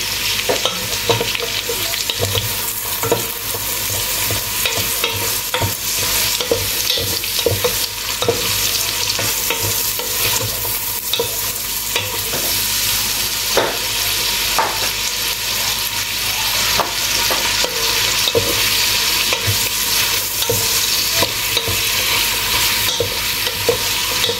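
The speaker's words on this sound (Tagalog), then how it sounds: "igisa mo na yung sahog" Ingredients for pancit sauté in a pan, a steady close sizzle broken by frequent scraping stirs of a utensil against the pan, continuing without talk.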